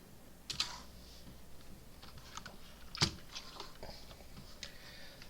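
Quiet, close typing on a computer keyboard, irregular soft key taps with a couple of sharper clacks standing out, alone with no voice.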